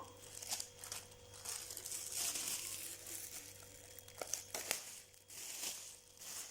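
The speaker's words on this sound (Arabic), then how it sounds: "هنغطيها بقى بالكيس اهو" Thin plastic refrigerator bag crinkles and rustles as it is laid over a tray of oiled dough, with a few sharper crackles toward the end; close and moderately quiet, no talk.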